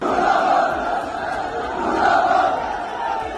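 A large crowd of protesters chanting slogans against the Pakistan army and its chief in Gilgit-Baltistan, a dense roar of many voices rising and falling in a steady rhythm.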